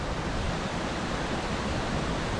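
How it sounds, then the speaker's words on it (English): Waterfall pouring over rocks into a small pool in a mountain gorge in Val Vertova near Bergamo, Italy, a steady, loud, dense roar of rushing water with no break. "a spectacular waterfall plowing through over the rocks into a little pool here"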